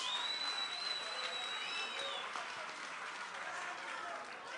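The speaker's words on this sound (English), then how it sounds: "let's give both these fighters a tremendous round of applause" An arena crowd applauds two boxers after their fight, a broad, moderately distant rumble of clapping and crowd noise, with high whistle-like tones early on and voices mixed in.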